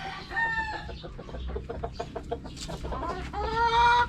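Seven-month-old roosters on a backyard farm crow and cluck together with chickens, several birds calling over one another at moderate distance, clear and unaccompanied by talk.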